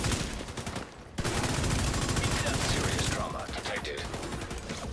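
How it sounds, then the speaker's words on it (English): The Bighorn rifle in The Division 2 is hip fired in rapid bursts, a loud stream of shots that pauses briefly, then resumes, with game effects behind, close and without talk. "I'm going to hip fire this."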